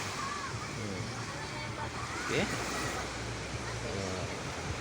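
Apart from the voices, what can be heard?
ocean waves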